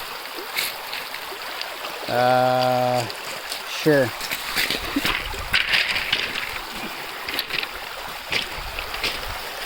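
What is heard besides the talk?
water running off the island after rain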